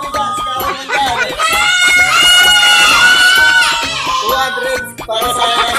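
Crowd at outdoor race games, people shouting and cheering loudly and continuously, with excited high voices and screams overlapping throughout.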